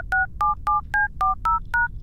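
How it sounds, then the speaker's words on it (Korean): Telephone dialing tones in the horror video game LUNA: seven crisp, evenly paced dual-tone beeps punch out one after another, loud and close, with nothing else heard. "전화? 갑자기 전화한다."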